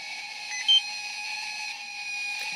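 A single short electronic beep from a Bee III detector passing its self-check rises briefly over a steady high-pitched electronic hum.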